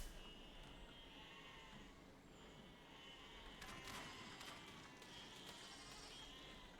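Sheep in the physics building game Besiege bleat faintly a few times against a quiet background hiss, with some brief clattering toward the middle.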